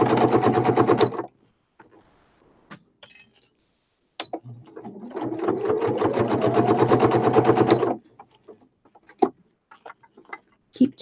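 Close, loud bursts of sewing machine stitching as fabric is sewn together for a handmade flower basket, a short run, a pause with faint handling, then a longer steady run, followed by scattered clicks.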